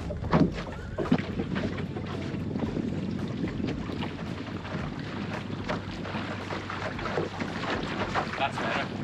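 Steady wind rushing over a sailing boat at sea, a continuous broadband roar with microphone buffeting and a few brief knocks, loud and close throughout.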